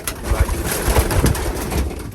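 Racing pigeons flutter and coo inside a tiny loft, wings flapping in close bursts with soft cooing throughout, busy and near.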